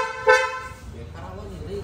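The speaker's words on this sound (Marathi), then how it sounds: "बघू गाडी वाजतं का नाही पहिले." A brand-new Kia Seltos sounds its horn once, a short bright honk near the start, followed by a quiet stretch with faint background noise.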